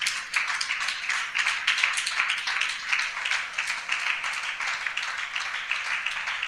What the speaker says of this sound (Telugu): కొంచెం గట్టిగా చప్పట్లు కొట్టి ప్రభుని మహిమపరచు.